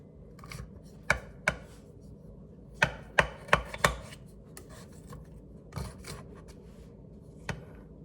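A knife slicing through almond ricotta cake bars, heard as a handful of sharp, irregular knocks and taps against a board, fairly close, with soft rubbing between the strikes and no talking.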